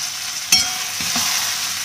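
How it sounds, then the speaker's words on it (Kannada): Tomato, greens, potato and onion frying in a pan for a chutney powder menthya bath breakfast, a steady soft sizzle with a brief stir clatter near the start. "ಇವಾಗ ಚೆನ್ನಾಗಿ ಫ್ರೈ ಆಗಬೇಕು."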